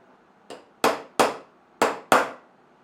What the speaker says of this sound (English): Now install the rivets using these homemade rivet setters.